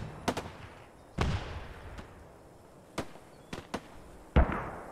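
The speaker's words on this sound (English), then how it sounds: "Anybody see where those mortars are coming down?" Mortar shells exploding in the Post Scriptum video game: a run of sharp, booming blasts, some near and loud and others fainter, landing at irregular intervals about a second apart with crackling tails.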